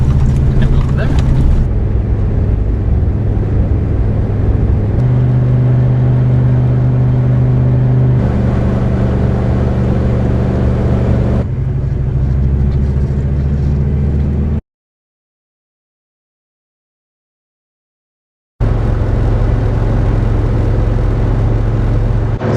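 Old diesel vehicle over 20 years old cruising on an Oregon highway at 65 mph, a steady loud engine and road rumble with a shifting drone, a voice talking over it, and a few seconds of total silence near the end.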